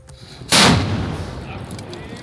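A ceremonial cannon at the Ajmer Dargah fires once to mark the breaking of the Ramadan fast. It is a single loud, sharp boom about half a second in, followed by a long rolling echo that slowly fades.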